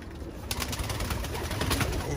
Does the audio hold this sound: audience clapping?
no